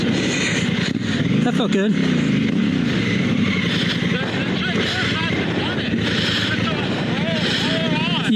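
A dual sport motorcycle climbs a short sandy hill, its engine revving loudly and steadily with rising and falling pitch close by, while a rider's voice talks over it.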